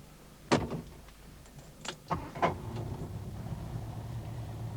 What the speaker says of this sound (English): the number plate and rear light drops down to accommodate it